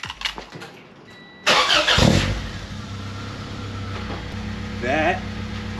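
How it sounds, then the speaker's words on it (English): A B18-swapped Honda Civic with a Yonaka cat-back exhaust and Blox test pipe cranks and fires up, then settles into a steady, fairly quiet idle with a brief rev near the end; a few clicks and rustles precede the start. "so now let's see how it sounds"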